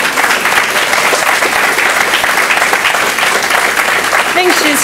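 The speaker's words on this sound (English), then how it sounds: "Can we give one more round of applause for Rianne?" Dense, loud applause from an audience at a panel event on juvenile justice reform fills the space steadily throughout, with a few voices and cheers mixed in near the end.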